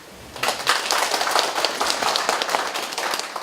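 An indoor audience at a local community meeting breaks into applause. Dense, even clapping starts after a brief pause and carries on steadily to the end.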